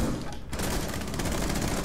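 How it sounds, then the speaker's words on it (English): Dense gunfire in Rainbow Six Siege, loud continuous bursts of rapid shots filling the whole stretch after a brief dip, with no clear talking over it. "I'm getting shot from above."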